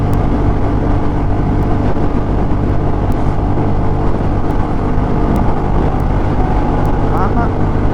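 Royal Enfield Classic 350 motorcycle with a modified exhaust running at high speed in fourth gear, a loud, steady engine drone mixed with wind roar throughout, with a voice talking over it.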